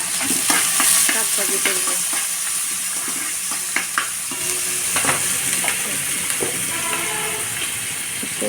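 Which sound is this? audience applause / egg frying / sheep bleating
egg frying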